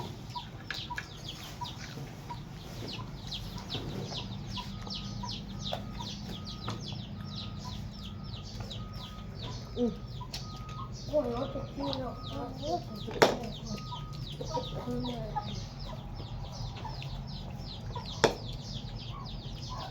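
Chickens cluck and call intermittently around a rural Thai home during a meal, soft scattered clucks at moderate distance beneath steady background noise, with people talking nearby.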